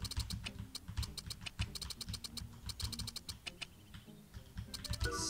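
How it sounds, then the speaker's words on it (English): Computer keyboard keys tapped in quick irregular runs while playing Dragon Fin Soup, trying to spin during fishing, the clicks sharp and close over a steady low game rumble, no talk. "this is me trying to do it with the keyboard"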